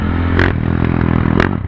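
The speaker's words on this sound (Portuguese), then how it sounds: "Fuçadinho, o motor da motoca do mano aí." A modified motorcycle engine idling close by with a rough, lumpy rhythm, punctuated by two quick throttle blips that sharpen the tone before it settles back.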